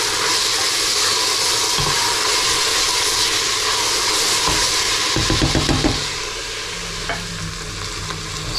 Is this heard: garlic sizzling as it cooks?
yes